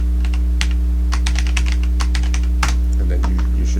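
Rapid keystrokes on a computer keyboard, loud and close, clattering in irregular bursts over a steady low electrical hum from a single-board computer setup.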